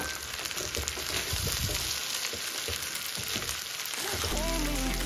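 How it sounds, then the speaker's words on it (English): Rice sizzles and fries steadily in a hot pan with carrots, a continuous crackling hiss with occasional stirring scrapes, close and loud, no talking. "Look at it's frying really well"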